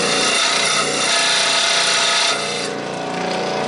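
Filing and rotary-tool grinding on a sand-cast copper dragon head, a steady dense scraping and buzzing that runs close and loud without pause, easing slightly toward the end; no voices.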